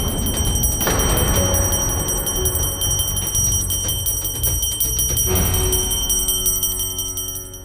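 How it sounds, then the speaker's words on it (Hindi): A small hand bell rings loudly and insistently inside a home, a bright metallic jangle sustained for several seconds with fresh shakes partway through before it eases off at the end, with no voices over it. "अब तो चीड़ आने लगी है इस घंटी की आवाज से।"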